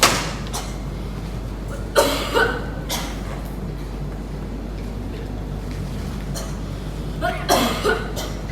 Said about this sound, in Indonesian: Merasa batuku itu terlihat parah.